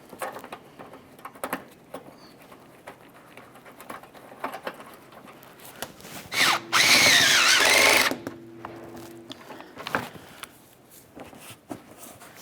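A power tool runs up a bumper mounting bolt on a 2012-2018 Nissan Altima, one short loud whirring burst of about a second and a half amid quiet handling clicks and shuffles.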